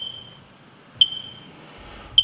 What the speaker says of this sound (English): the different sounds that smoke and carbon monoxide detectors make